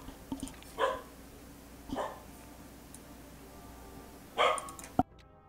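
A dog in a video game barks a few times, short, fairly faint yaps spaced about a second or two apart over a low background hum, ending in a sharp click.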